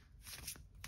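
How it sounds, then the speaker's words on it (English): A large tarot deck shuffled lengthwise by hand, giving a soft, quiet papery rustle of cards sliding together over about a second, heard alone with no talk. "I kind of just have to like shuffle it kind of long ways like this"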